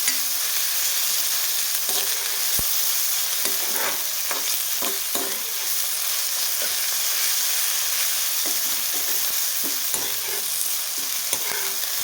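Onions for chana masala fry and brown in a pan under a loud, constant sizzle, with repeated close scrapes and taps of a spatula stirring them throughout.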